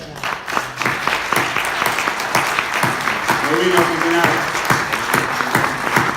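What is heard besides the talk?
congregation applauding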